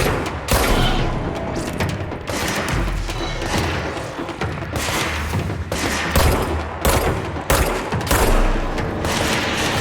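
Rapid bursts of gunfire and shotgun blasts ring out in the action game Control, loud and close, with heavy thuds and booms mixed among repeated volleys.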